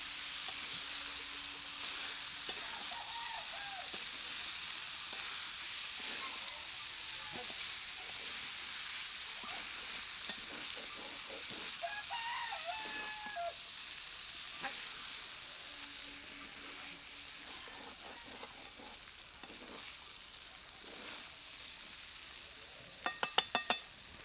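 Masala for a kurdai vegetable dish sizzles and fries steadily in a pan while being stirred, with occasional scraping and clinks, and a few knocks at the end.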